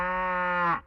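A single cow moos loudly and close, one sustained low bellow that holds steady for most of a second before cutting off abruptly.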